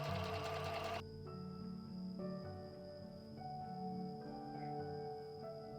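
A sewing machine stitches fabric for a drawstring bag in a steady, continuous whirring run, with a faint tonal hum underneath and no voices.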